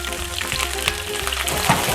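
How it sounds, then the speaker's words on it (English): Broccolini sizzles in hot olive oil in a pan, a close, steady crackling fry with small pops and no talk over it. "Notice how that is nice sizzling there."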